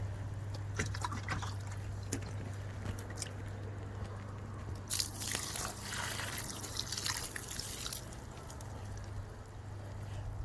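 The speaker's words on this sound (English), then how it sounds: "I can hear the water dripping below" Irregular drips of water fall close by beneath a self-watering garden bed, small wet taps and splashes scattered over a low steady hum, with a louder cluster near the middle.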